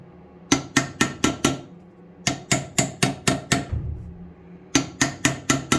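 Hammer tapping an old basin to loosen dried linseed putty, three sharp bursts of five or six quick metallic knocks each, close and loud with short pauses between groups.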